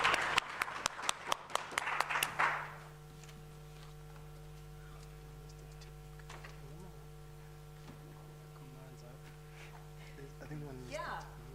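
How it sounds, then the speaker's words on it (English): Audience applause for a speaker at the UNISA Innovation Festival 2024: a dense burst of clapping for about two seconds, then it dies away into a quiet room with a steady electrical hum and faint stray sounds. "A round of applause for Iviwe"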